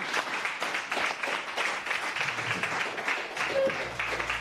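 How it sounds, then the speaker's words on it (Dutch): Fairly faint applause from a small audience at a Repair Café event held in a library in Baarlo, with scattered clapping that holds steady throughout. "En onder het applaus door loop ik naar meneer Jan Wijnhoven."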